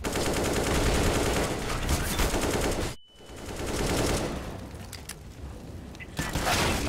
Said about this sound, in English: I'm using the smoke as cover as I'm shooting these terrorists